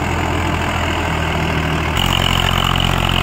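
A Swaraj 744 XT tractor's diesel engine chugs steadily at idle, then its note thickens and grows louder as both levers are lowered and it takes on more load, running continuously with no voices.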